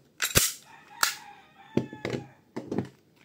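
A WE gas blowback Glock airsoft pistol fires four sharp, close cracks of BBs at irregular intervals, each snap trailing a brief metallic ring.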